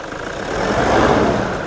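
A nearby Toyota Fortuner SUV engine rises in pitch and loudness as it revs, then eases back slightly, a continuous broad roar with no voices.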